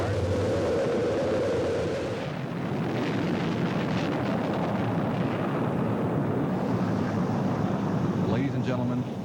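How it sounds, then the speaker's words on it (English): A rocket's main engines ignite at launch with a broad, loud, continuous roar and rumble. Voices are heard over the roar. "We have main engine start."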